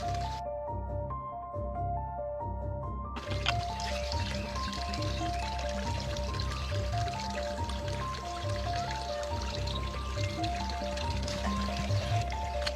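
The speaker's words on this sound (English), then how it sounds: "And now I'm going to use that to water the fertilizer plants." Liquid fertilizer solution is poured to water potted plants, making a continuous soft trickle and splash with occasional drips, moderately close and steady throughout, with no talk over it.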